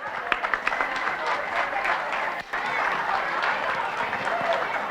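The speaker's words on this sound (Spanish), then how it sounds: "Fuerte el aplauso, por favor, para nuestros ponentes." An audience at a conference on the present and future of Mexico City claps steadily for the speakers, a dense, continuous patter of many hands filling the hall.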